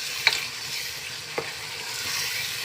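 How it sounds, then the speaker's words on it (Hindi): Fenugreek being stirred into turnip and spice masala in a pan: a soft steady sizzle with two brief scraping clicks of the spoon, no voices. "मेथी को भी हम इस मसाले में और शलजम में मिक्स करेंगे अच्छी तरीके से।"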